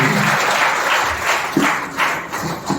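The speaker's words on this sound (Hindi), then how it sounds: "जोरदार तालियां परमेश्वर के सुंदर वचन के लिए" A church congregation claps in a steady wash of applause, fairly loud and continuous, with a few sharper bursts standing out.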